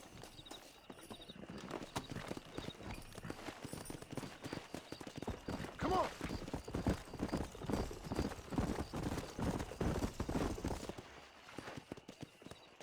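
Several horses in Red Dead Redemption breaking into a gallop, rapid overlapping hoofbeats building in loudness and density toward the middle, then easing off near the end, with no talk over them.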